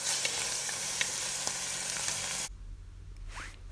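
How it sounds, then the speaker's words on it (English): Diced bacon frying in a pan gives a steady, dense sizzle with small pops for about two and a half seconds, then the sizzle drops away to near quiet with a faint scrape. "Fry your bacon just until it's well cooked."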